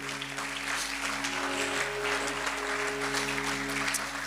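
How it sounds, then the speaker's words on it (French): A church congregation claps continuously and loudly, with a thick, even wash of hand claps over a low sustained musical drone throughout. "Acclame pour Jésus."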